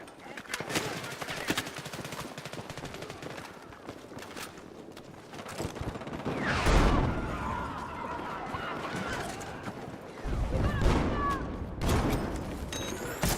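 Rapid bursts of gunfire from a Battlefield video game crackle through the scene, with heavy clusters of shots around the middle and near the end, while players' voices talk over the action.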